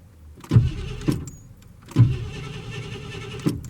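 A 1981 Mercury Marquis engine catches with quick throttle blips, giving several short, sharp bursts of revving spaced a second or so apart, each swelling briefly and falling back to a low rumble, close and unaccompanied by speech.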